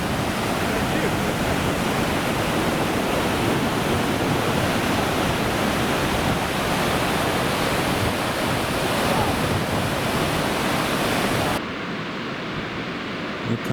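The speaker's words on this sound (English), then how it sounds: "This should be LeConte Falls." LeConte Falls on the Tuolumne River roars as a steady, loud, broadband rush of falling water, constant throughout and heard close up, dropping slightly in level near the end.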